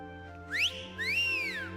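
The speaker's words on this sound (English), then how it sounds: "Just put your fingers in your mouth and blow." A finger whistle from a campy monster movie, two shrill rising-and-falling blasts, the second longer, heard over a low steady hum with no talking.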